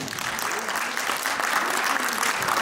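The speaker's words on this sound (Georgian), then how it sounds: "Თქვენი უხარი აპლოდისმენტები" Audience applause fills a hall at a Georgian folk ensemble's annual concert, steady and fairly loud clapping throughout, with a voice faintly audible over it.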